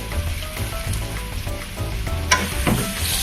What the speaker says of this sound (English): I've thinly sliced the eggplants and I'm going to add them directly to the pan.